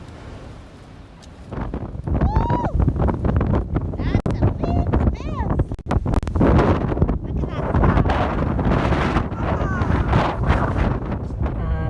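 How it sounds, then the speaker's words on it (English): Gusty wind buffets the microphone with a steady low rumble throughout, while people talk over it. "it's still windy"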